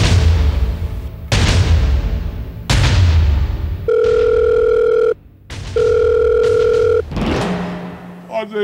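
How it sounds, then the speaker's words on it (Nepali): An unanswered telephone gives two long, loud electronic ring bursts after a stretch of noisy rumbling, with a short gap between the rings. "अझै फोन उठाएन यो ठेउकेले"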